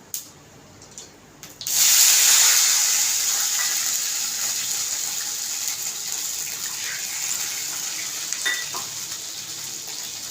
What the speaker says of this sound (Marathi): त्या वाटीने मी दोन वाटी पाणी घालते